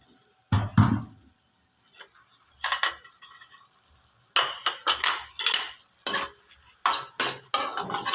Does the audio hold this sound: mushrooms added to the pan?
yes